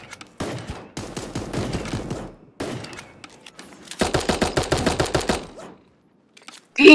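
Rapid bursts of gunfire from the video game Super Animal Royale, several loud clusters of rattling automatic shots separated by short pauses, ending in one sharp blast.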